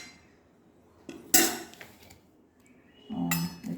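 Dishes and cutlery clink as rice is served onto plates in a home kitchen, in two short bursts of close metallic rattling separated by a quiet pause.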